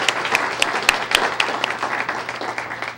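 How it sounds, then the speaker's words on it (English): Audience applause at a school Student of the Month ceremony, a steady crowd of clapping hands with sharp individual claps standing out, filling the room for three seconds with no talking. "Let's give them a great round of applause."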